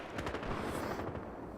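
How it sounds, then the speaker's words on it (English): Grenades burst continuously in a Battlefield Hardline team deathmatch, a dense rumbling roll of explosions and booms, loud and unbroken throughout with no talking. "there's grenades going everywhere down there"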